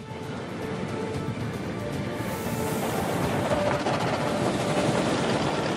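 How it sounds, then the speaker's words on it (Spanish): Sunlander train running on rails through tropical Queensland, a steady loud rumble with rattling carriage noise and faint clatter that swells slightly, with no voices. "Vamos a coger el tren."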